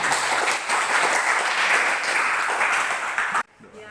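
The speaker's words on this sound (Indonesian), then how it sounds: "Kita beri apresiasi dengan beri tepuk tangan." An audience of teachers and students at an Indonesian school event claps steadily for about three and a half seconds, a dense broadband patter that stops abruptly, leaving quiet room tone.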